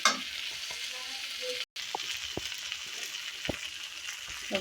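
Bhaji of eggplant, potato and dried fish frying in a pan, a continuous close sizzle with intermittent spatula taps and stirring scrapes, briefly cut to silence midway.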